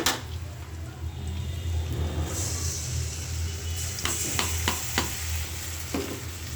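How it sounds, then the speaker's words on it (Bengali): Spices sizzling in hot oil with fried onions in a pan for goat meat curry, stirred with a utensil in steady scraping strokes and a few sharp knocks, close and continuous. "মশলা দিয়ে ভালো করে কষাই নিই।"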